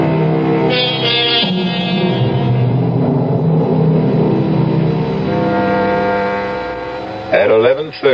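A Fifth Avenue bus in a 1970s radio drama rumbles and revs along with a steady mid-pitched engine drone, then a brief clatter near the end, with speech likely blended in over it.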